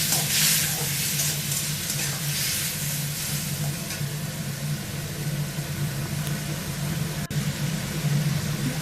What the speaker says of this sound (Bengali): জিরে দিয়ে একটু নেড়ে একটু জল দিয়ে ভালো করে কষিয়ে নিতে হবে